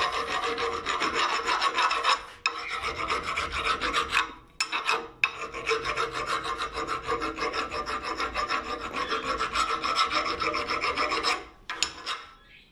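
A hand file scrapes burrs off the metal of a homemade brake disc skimming tool: close, continuous rasping strokes with a few short pauses between passes, and no voices.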